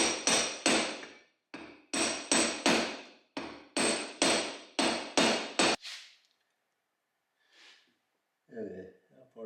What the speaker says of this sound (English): I think we're going to use my hub socket here. Tap that guy in there, hopefully.